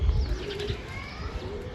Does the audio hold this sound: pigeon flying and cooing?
yes